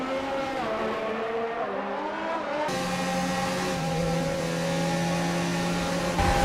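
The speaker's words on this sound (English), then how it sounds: "The McLaren and the Renault are getting very close to each other, and that's Carlos Sainz." F1 race cars in the F1 2019 video game at the Abu Dhabi Grand Prix, a McLaren and a Renault running close, their high engine whine rising and shifting pitch as one car passes, loud and continuous with no talk.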